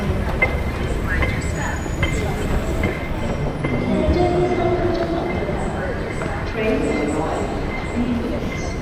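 A train in Hong Kong rumbles along with a continuous rolling roar and faint clatter, close by, while people talk over it throughout.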